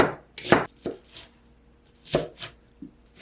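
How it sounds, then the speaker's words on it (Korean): A knife thinly slices onion on a cutting board in a handful of sharp, irregular strikes with quiet pauses between, close and distinct. "양파는 가늘게 채 썰고"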